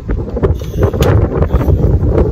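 Strong wind roars and buffets steadily, loud and close, with a low rumbling gusting texture throughout.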